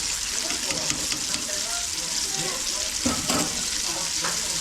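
Chicken pieces for homemade KFC-style fried chicken sizzle steadily in hot oil, a dense continuous crackle with a few sharper pops near the end, close and fairly loud.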